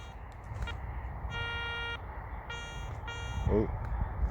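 Several bursts of steady, high-pitched electronic tones from a metal detector sweeping a UK field, repeating at short intervals, with a brief faint voice in between.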